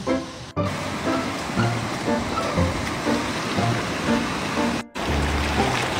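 River water rushes and flows steadily up close, a dense continuous wash that cuts out abruptly twice for a split second.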